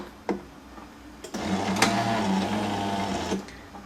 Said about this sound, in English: Here it's performing a rinse cycle, which it does before and after each coffee cycle.